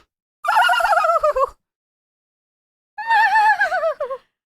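A human voice imitating a high-pitched loon call, two wavering, warbling cries of about a second each separated by a pause, fairly loud and close with nothing else heard.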